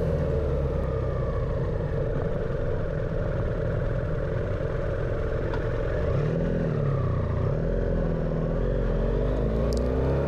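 Motorcycles idle and rumble steadily on a country inn's car park as a group gets ready to head out on a ride, with engine tones rising and shifting midway as the bikes pull away.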